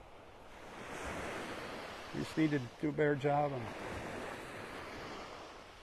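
Ocean surf washes steadily onto a beach in North Naples, Florida, a continuous broad rush heard throughout while someone talks close by in the middle of the stretch.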